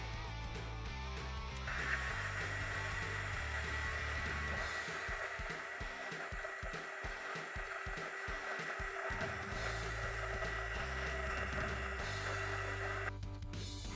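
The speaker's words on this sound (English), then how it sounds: "We're going to use our heat gun here." Heat gun blowing a steady, even whoosh while shrinking heat shrink tubing over joined, soldered cables, running continuously at close range with faint handling rattles, and no talk over it.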